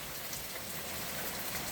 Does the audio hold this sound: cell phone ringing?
no